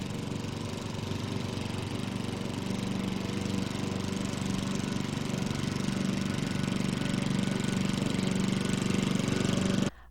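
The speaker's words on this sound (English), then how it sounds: "A gas lawnmower 31 meters or 100 feet away will create a sound level of approximately 75 decibels." A gas lawnmower engine drones steadily at a distance, a constant low mechanical hum with a faint rhythmic chug that cuts off abruptly at the end.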